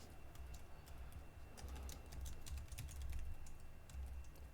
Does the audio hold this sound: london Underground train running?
no